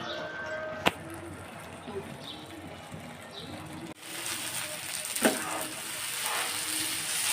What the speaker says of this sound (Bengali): বন্ধুরা আমার চালটা ভালোভাবে ভাজা হয়ে গেছে